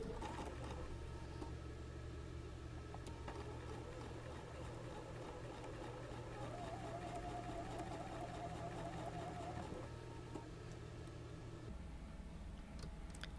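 A sewing machine stitches a quarter-inch seam across bulky joined seams on quilt blocks, a quiet, close, steady rapid hum running throughout with a slight pitch shift midway.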